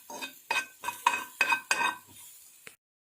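Onions frying in a pan for chicken biryani, cooked toward golden brown, with a series of about six rhythmic stirring scrapes and clinks of a utensil in the pan, close and moderately loud, then quiet.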